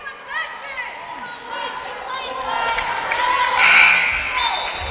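Crowd noise at a women's college basketball game, WOU against Simon Fraser, swelling into loud shouting and cheering after a disputed jump ball, with sneaker squeaks and a faint bounce early on.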